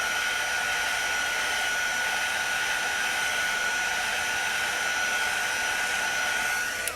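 A hair dryer blows steadily on a chalk couture project, a loud, constant close whooshing roar with a faint whine, cutting off right at the end.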